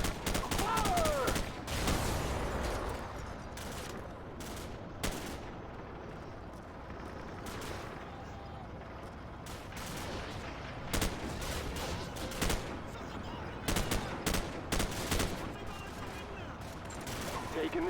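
Gunfire in the video game Call of Duty 4, dense bursts of shots and blasts over a constant loud battle din, with sharp cracks recurring irregularly throughout.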